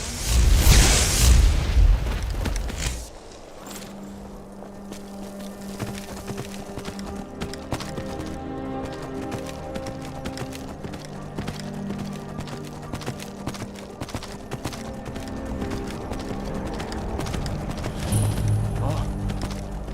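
Horse galloping in the Skyrim video game, a steady rapid clip-clop of hooves under game music and ambience, with a loud impact at the start and people talking over it.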